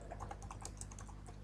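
Fast, steady typing on a computer keyboard while writing Java code for a doubly linked list, a dense run of close, crisp key clicks at low level, with no voice.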